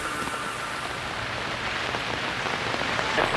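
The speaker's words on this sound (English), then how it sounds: "all of a sudden you could hear all this rain coming behind you" Steady rain falls on a mountain trail on Kilimanjaro, a dense, even hiss of drops close by with no voices.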